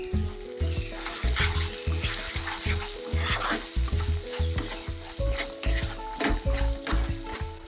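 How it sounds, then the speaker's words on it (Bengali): A spatula stirs spiced potato and cauliflower samosa filling in a hot pan, with steady scraping and tapping strokes over a constant loud sizzle, close up and with no voices. "বেশ খুন্তিটা দিয়ে মাখো মাখো টাইপের করে নিতে হবে"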